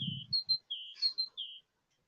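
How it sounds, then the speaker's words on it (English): A bird sings outdoors in a series of clear, high whistled phrases, each short note repeated with brief pauses, close and fairly loud against a quiet background, with a low rumble at the start. "That bird singing for you, Rose."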